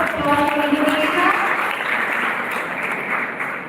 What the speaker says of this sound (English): Can you please have a huge round of applause for Indonesia?